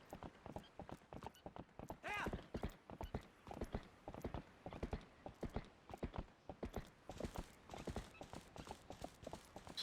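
Horse hooves clip-clop in a steady, close rhythm in The Legend of Zelda, a Wii game remaster, repeating throughout with a few creaks and mechanical game sounds mixed in.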